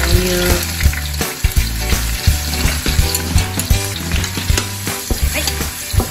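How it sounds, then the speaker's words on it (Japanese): Garlic and the white part of scallions stir-fry in a hot pan, giving a loud, steady sizzle broken by clattering knocks and scrapes as the pieces are tossed. "はい、少し炒めます"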